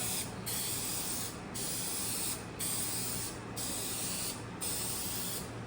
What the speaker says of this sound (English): So you gotta paint every panel in sections because the nozzle doesn't spread out very well on this.